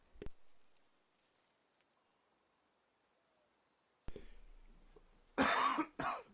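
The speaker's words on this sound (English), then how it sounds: "unmute myself right as I start coughing" A short burst of coughing comes near the end after mostly quiet room tone, with a small click at the start.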